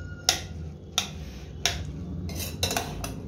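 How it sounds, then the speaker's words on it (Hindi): A spoon stirring dalia in a pot gives sharp metallic clinks against the side, roughly every two-thirds of a second and then a quicker cluster near the end. A low background hum runs underneath. "और इसे मैं चम्मच से मिक्स कर लेता हूं।"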